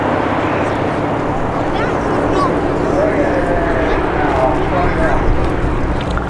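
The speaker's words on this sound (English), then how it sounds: "So the pilots are now slowing the aircraft down, and the pilots will give the aircraft a little wiggle, a wing rock" Wingwalking display biplane flying past at the Midlands Air Festival, a loud continuous engine drone that swells slightly as it passes, under an announcer speaking over a public address.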